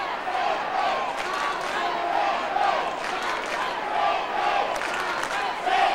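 A large Sydney football crowd at a 1992 AFL match between Carlton and Sydney roars in full voice, a continuous swelling wall of cheering and chanting with rhythmic surges, heard from within the stadium.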